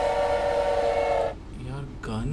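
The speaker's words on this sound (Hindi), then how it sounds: "तो ट्रेन दूसरी साइड पे लेके जाते हैं और फिर आते हैं" A train rumbles along in the Choo Choo Charles video game, its steady loud drone with a tonal whine cutting off partway, then lower engine groans and a brief horn-like tone returning.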